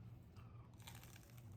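A crunchy bite of food spread with muscadine jelly, one brief close crisp crunch heard alone.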